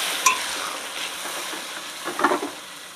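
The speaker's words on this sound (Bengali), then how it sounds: "আমি এবার আদা জিরে আর লঙ্কা বাটা একসঙ্গে দিয়ে দিলাম। সুন্দর করে এবার কষিয়ে নেব।" Ginger, cumin and chili paste fries in a pan, a close, dense sizzle broken by a few clinks and scrapes of stirring, with no talking.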